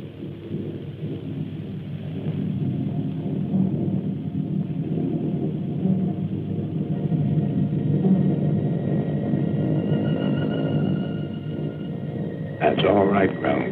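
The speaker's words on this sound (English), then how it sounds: "You hear them winding up those engines." Aircraft engines being run up at wartime dispersal areas produce a loud, steady, low rumbling drone that holds for the whole stretch and swells slightly toward the end.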